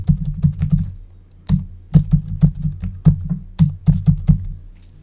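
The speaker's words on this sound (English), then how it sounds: "here you can start doing your all of your typing" Rapid clicking keystrokes on a computer keyboard, typing in short bursts with brief pauses between, close and clear with no talking.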